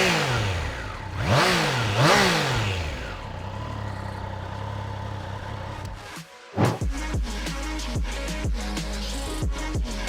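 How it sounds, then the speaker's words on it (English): A 2021 Triumph Trident 660 motorcycle is revved hard, with two rising and falling rev sweeps from the engine and exhaust. After a brief cut, a loud idling exhaust note follows, broken by quick throttle blips, close and alone. "Let's fire her up and test that exhaust note."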